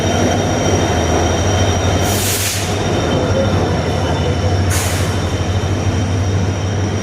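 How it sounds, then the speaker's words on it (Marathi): The Nandigram Express, running from Mumbai to Ballarshah, rolls into a station with a loud, steady rumble of wheels, two sharp bursts of hiss or squeal breaking through as the cars pass close by. "आता येते आहे ती नंदीग्राम एक्सप्रेस मुंबईहून बल्लारशावर जाणारी"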